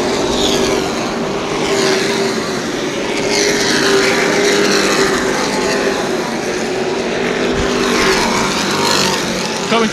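Sportsman stock cars racing at New Smyrna Speedway, a loud continuous roar of several engines droning and rising and falling as the pack passes, heard from trackside with no voices.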